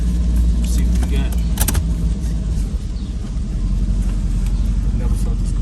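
A 1992 Chevrolet Camaro Z28 with a new starter and a reinstalled gas tank is driven, its engine giving a steady, loud low rumble heard from inside the car, with brief light rattles.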